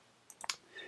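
A few quick close clicks of a computer mouse, a small cluster of sharp taps in quick succession over faint background hiss.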